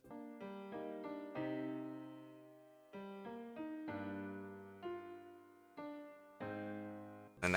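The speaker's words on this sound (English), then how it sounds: "I got some low piano chords, as well as a piano melody" Low piano chords with a piano melody from a JRPG main theme, repeated phrases with soft sustained decays, played alone with no voices; a brief louder burst enters at the very end.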